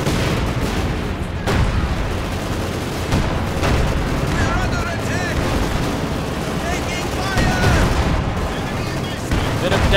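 Guns and artillery blast continuously through a Company of Heroes 2 1v1 match, with dense booms and fusillades from tanks like a T-34 and Panzer IV layered loud and steady, with frequent sharp impacts.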